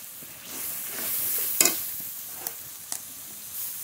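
A spice paste of poppy seed and cashew, seasoned with salt and turmeric, sizzles softly in a pan, with a few sharp scraping stirs and light clicks over the low hiss.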